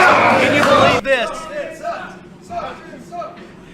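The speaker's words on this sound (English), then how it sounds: "This crowd yelling the Sultan sucks." A wrestling arena crowd yells and jeers in a loud burst that cuts off after a second, followed by scattered shouts and a commentator's voice over the murmuring audience.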